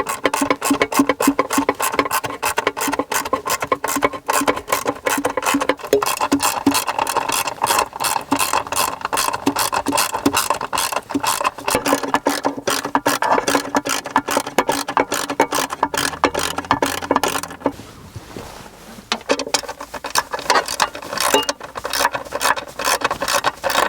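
A ratcheting wrench tightens bolts on an in-vehicle console vault safe, with rapid, steady clicking that runs almost continuously and up close, breaking off briefly near the end before resuming.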